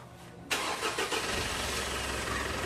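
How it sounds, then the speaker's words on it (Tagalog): A car engine cranks and catches at about half a second, then settles into a steady, loud idle close by that continues to the end, with no talk over it. "i-start ko itong makina."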